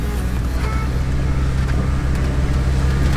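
A Jeep driving off-road in the Black Hills, a loud steady low engine drone with rattling and road rumble, close and continuous throughout.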